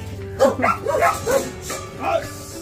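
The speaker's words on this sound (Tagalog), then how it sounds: "Lalaki ng aso." A large dog barks and yips several times in quick, uneven bursts, close and fairly loud, with a faint steady hum behind.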